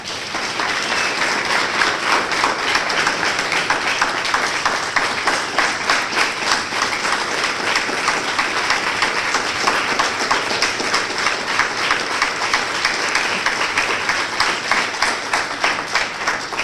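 A university scholars' event audience applauds a guest speaker, a judge, with dense, sustained clapping that stays loud and even throughout, with no talk over it.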